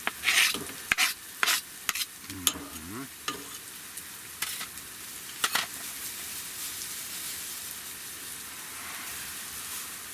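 Mushrooms tipped into a pan over a stove in a tipi camp, with a few sharp stirring scrapes and clatters early on, then a faint, steady sizzle.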